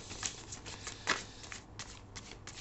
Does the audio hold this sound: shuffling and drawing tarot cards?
yes